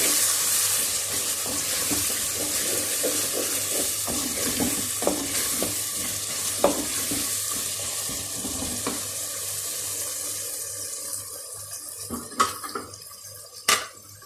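Masala spices frying in a pan for bhindi gosht, a loud continuous sizzle with scraping stirring strokes that thins out toward the end, punctuated by a couple of sharp clinks.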